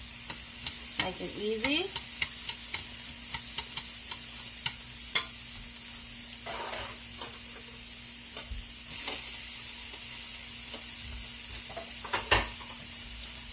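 Bok choy and noodles stir-frying in a pan, a constant bright sizzle with scattered scraping and tapping from stirring, while a voice talks briefly.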